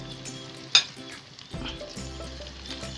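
Spices fry in a pan for Acehnese keumamah asam sunti, stirred with a sharp metallic clink and scraping over a constant sizzle, close and moderately loud, against a tonal background hum, with no talking.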